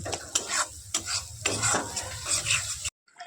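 Spice masala being stirred and fried in a pan for a fish curry, with repeated scraping strokes over a steady close sizzle that cuts off abruptly near the end.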